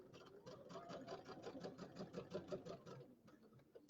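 A sewing machine stitching a pillow, a rapid rhythmic mechanical chatter of needle strokes at a steady pace, heard close and quiet, stopping briefly near the end.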